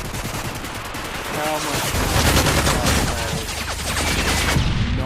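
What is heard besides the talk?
gunfire in Modern Warfare 3 video game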